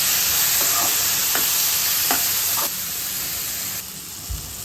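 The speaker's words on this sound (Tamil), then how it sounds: "வெங்காயம் வதங்கிட்டதுக்கப்புறம் நம்ம கட் பண்ணி வச்சுருக்க தக்காளி ஆட் பண்ணிக்கலாம். தக்காளியும் நல்லா வதங்கணும்." Chopped tomatoes are stirred into softened onions in a pan for okra kara kuzhambu, making a loud, continuous hissing sizzle with a few spatula strokes, easing slightly quieter toward the end, with no voices.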